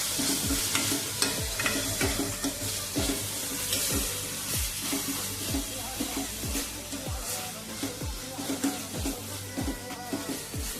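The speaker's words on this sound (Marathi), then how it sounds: "आता आपला कांदा टाकणार आहोत। हलकासे परतून घेणार।" Onion being lightly sautéed and stirred in a pan for momo filling, with a steady sizzle and repeated scraping strokes of a spoon against the pan throughout.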